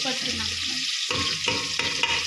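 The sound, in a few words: stirring frying tomato, onion and chilli mix with spoon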